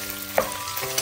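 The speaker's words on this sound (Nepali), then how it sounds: "यो तेल तातिसके म अब क्यूब ब्रेस्ट हाल्छु" Cubed chicken breast fries in hot oil, a brief steady sizzle with a faint clink or stir partway through, quiet and close with no talk.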